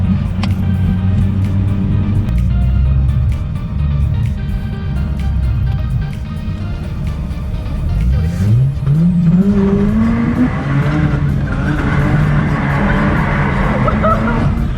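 A Mazda RX-8 spins a drifting donut, its engine droning loudly and tires squealing continuously, with the engine note rising sharply partway through.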